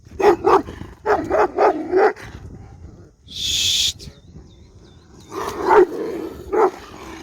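Several short, sharp dog barks come in bursts close by, broken by a hissed hushing sound and a brief high squeal before more barking follows.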